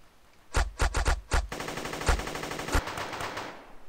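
Automatic gunfire in the blocky shooter game Guncraft comes in several quick bursts, then one loud continuous stream of shots that tails off.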